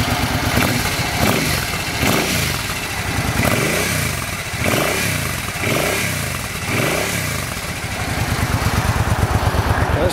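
A fuel-injected 2007 Suzuki Boulevard C50 motorcycle with stock pipes cranks with repeated starter sweeps, then catches and settles into a steady, moderately loud idle close by.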